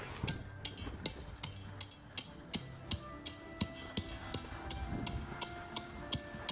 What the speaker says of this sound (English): just gonna rake it a little bit and then tamp it in